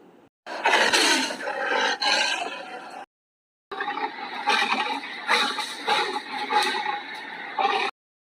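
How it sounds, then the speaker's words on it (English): A white tiger gives deep, loud roars in two long sustained stretches split by a short silence, close and unaccompanied. "White tiger."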